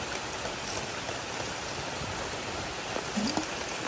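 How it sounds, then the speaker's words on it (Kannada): Steady monsoon rain in a forest village hissing across the whole clip, a dense broadband wash with no clear pauses, moderately loud and close. "ಈಗ ಮಳೆ ಸಹ ಬರ್ತಾ ಉಂಟು"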